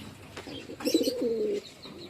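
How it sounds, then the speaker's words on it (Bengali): A single soft, rolling coo from a Madrasi pigeon at a village loft, close by, rising out of quiet background noise. "খুব সুন্দর পায়রা"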